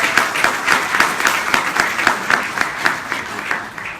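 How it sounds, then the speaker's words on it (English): A meeting audience at a Barbados travel business launch event applauds, with dense, steady clapping and a few sharper claps standing out, fairly loud and sustained throughout. "I want to applaud you today"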